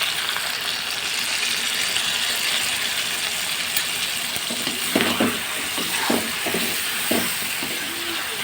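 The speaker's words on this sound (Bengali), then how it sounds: "চলো ততক্ষণ মশলাটা ভাজা হোক।" Spices fry in a pan alongside already-browned chicken, giving a steady, loud sizzle. A few scraping, clattering stirs come near the end.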